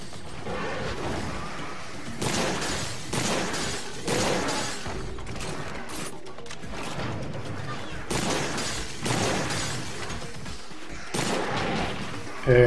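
Rifle fire from a Hunter's Rifle in Monster Hunter 3 Ultimate, a series of loud, sharp shots spaced a second or two apart over a continuous backdrop of game music and battle noise.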